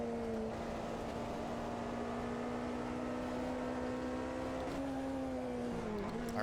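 An IMSA GTP race car in Automobilista 2 at Road Atlanta, a sustained engine whine holding steady pitch, then dipping and rising briefly near the end as it shifts through a corner, loud and continuous with no talk.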